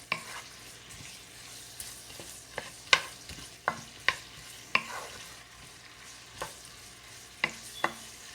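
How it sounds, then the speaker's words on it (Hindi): Onions fry in a pan with a constant soft sizzle, broken by sharp scraping clicks as a spoon stirs them every second or so, close by and with no talking. "प्याज को अच्छी तरह से फ्राई कर लेंगे।"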